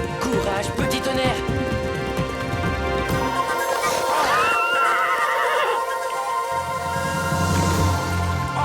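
A pony neighs loudly over dramatic orchestral music, with faint hoofbeats mixed in, in an animated cartoon.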